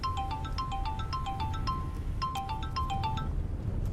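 A phone ringtone plays as a repeating melodic pattern of bright electronic notes. It sounds clear over a low, rumbling background, as if inside a moving car.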